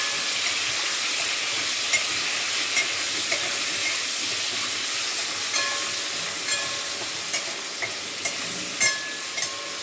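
Paneer fries in hot oil in a pan, giving a steady close sizzle with a few soft clinks and stirring knocks scattered on top.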